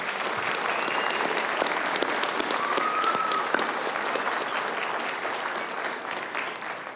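Audience at a graduate commencement applauding event staff, a dense, loud, continuous round of clapping that holds steady throughout with little other sound.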